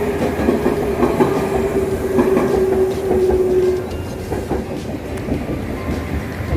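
A train rumbles steadily at Narai station in Japan with a clattering undertone, and a sustained metallic squeal rings out through the first half before fading into the continuing roar.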